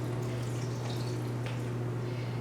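Water poured into sugar in a pan while making caramel sauce, a steady soft splashing and trickling wash under a low constant hum, with no talk.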